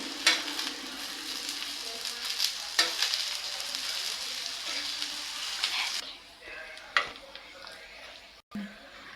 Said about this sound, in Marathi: आता ही भेंडी फ्राय करून झालेली आहे